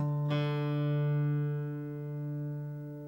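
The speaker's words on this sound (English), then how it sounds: "Listen for that wobble between the two notes to slow down." Two guitar harmonics ring together after a plucked attack while tuning to drop-D, their tone pulsing in a slow wobble that gradually evens out as they sustain.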